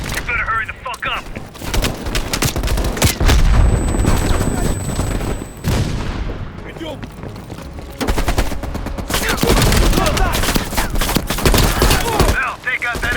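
Heavy machine gun fire and battle noise from a Call of Duty Black Ops Cold War campaign mission fill the scene, loud and sustained with brief lulls, while voices speak over the shooting.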